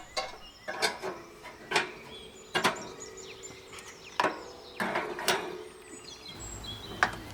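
A metal warming rack is fitted into place on a Weber Q gas grill. About a dozen close, sharp metallic clanks and rattles come at an uneven pace, with no talking.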